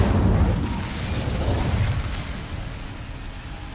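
The Incendio fire spell cast in Hogwarts Legacy: a loud whooshing burst with a deep low-end rumble that carries on as a crackling roar and slowly fades.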